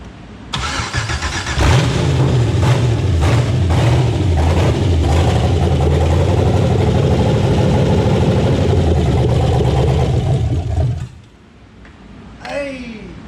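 An LS V8 swapped into a BMW cranks and fires, then roars into a loud, steady idle for about nine seconds before shutting off, followed by an excited shout.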